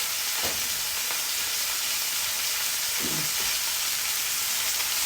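Flipped food sizzles in a hot frying pan as a steady, loud hiss, with a few soft knocks of the utensil against the pan and no voices over it.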